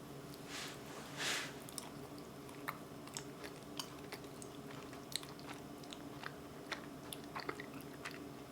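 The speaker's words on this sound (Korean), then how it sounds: "안에 있는 그 아이스크림 다 넘어가면 이 겉에 있는 떡처럼 쫀디쫀디한 게 마지막에 이제 씹히거든요" Soft, sticky chewing of mochi-wrapped ice cream with a chewy rice-cake outer layer, heard up close as faint wet squishes and occasional small bites over a quiet background.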